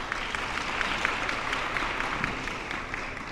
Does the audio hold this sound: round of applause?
yes